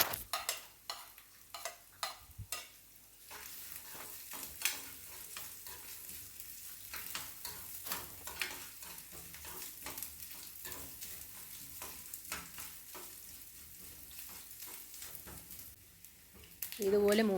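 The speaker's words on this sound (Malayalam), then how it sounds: "ഇപ്പം തേങ്ങാക്കൊത്തും കൂടി ഒന്ന് വറുത്ത് ചേർത്ത് കൊടുക്കാം" Coconut pieces frying in ghee alongside aval for a Kerala snack, a soft, steady sizzle with intermittent spoon scrapes and stirring clinks against the pan, and a voice talking at times over the cooking.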